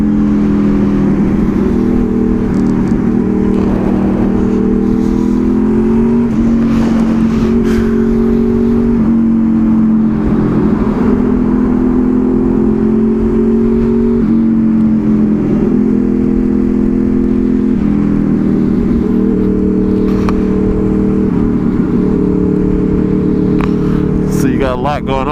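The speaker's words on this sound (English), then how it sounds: "This is how it is, morning traffic in the city." Morning city traffic heard from a moving motorcycle, the bike's engine droning steadily and shifting pitch as it speeds up and eases off, with someone talking over it throughout.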